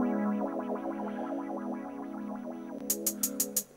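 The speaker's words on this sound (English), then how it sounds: "this filter, which is on this sample, can kind of modulate that sound in quite a kind of liquid way" A sustained synth pad with a sweeping, liquid filter modulation swelling and wobbling, followed near the end by a few crisp hi-hat ticks.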